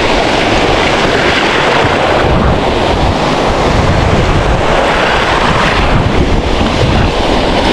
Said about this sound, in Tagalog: Sa basagan ng alon.